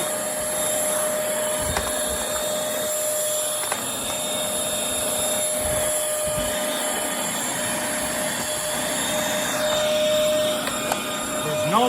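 A purple Bissell Featherweight stick vacuum, model 20334, running steadily close by with a constant high whine and airflow roar, no voices over it.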